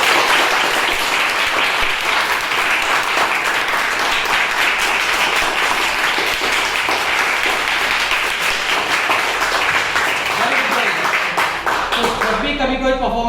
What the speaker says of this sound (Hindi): आगे हाथ करके जोरदार तालियां बजानी चाहिए। एक बार बजाओ।